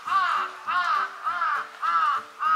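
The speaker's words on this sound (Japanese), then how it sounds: "うるせえぞカラス" A crow caws five times in a steady rhythm, each harsh call close and loud, with short pauses between them.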